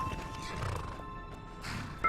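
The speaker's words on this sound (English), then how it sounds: "More horses." Horses neigh and whinny in the fantasy RPG Enderal, a Skyrim mod, with clip-clop hooves beneath: a steady outdoor horse scene at moderate level, sharpening into a louder whinny at the end, no talk.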